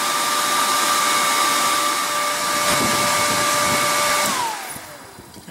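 An RV furnace fan with a mouse jammed in it runs as a loud, steady whir with a faint tonal hum, then spins down and fades out near the end.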